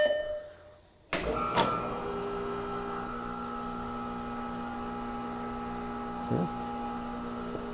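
A tire changer machine mounting a tire back onto its wheel starts with a sharp clunk, then settles into a steady mechanical whir and hum with a brief rattle near the end.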